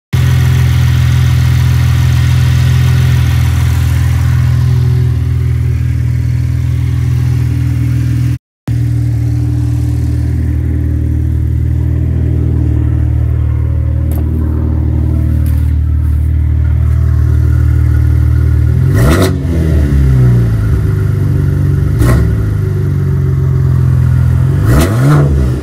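A Cadillac engine fitted with a newly installed turbo runs at a loud, steady idle, cuts out briefly, then restarts and blips into several sharp revs near the end, with no talking.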